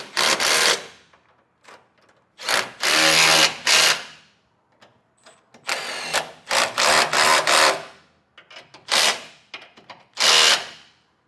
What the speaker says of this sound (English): come back with a 3/4 inch socket and snug everything down